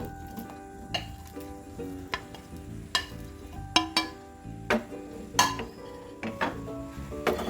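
Banana pieces frying in a pan are stirred with a utensil, giving irregular scraping and clinking strikes over a low sizzle, close and moderately loud, with no talking.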